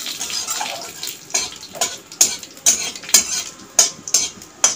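Whole spices and two dried chilies tempering in a little hot oil for a jelly-style mango pickle, sharp crackles and pops bursting over a low sizzle, close and fairly loud, with no talk.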